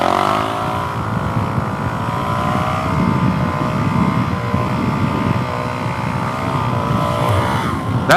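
Suzuki DRZ motorcycle engine running steadily and loudly close to the rider, a continuous droning roar with shifting harmonics as revs climb during a wheelie attempt, with no talk.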